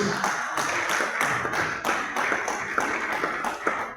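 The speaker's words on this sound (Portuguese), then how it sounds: "Você pode aplaudir o santo do Senhor Jesus?" Church congregation applauding at a prayer service, rhythmic clapping in a steady beat of many hands, moderately loud and roomy, continuing evenly for several seconds.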